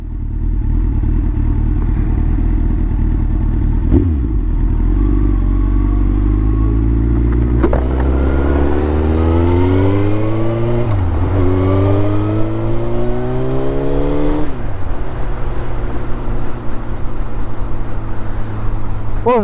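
A powerful motorcycle engine, roughly 160–170 brake horsepower, roars loudly during a ride, climbing through the gears in rising rev sweeps with brief dips at each shift over steady wind noise.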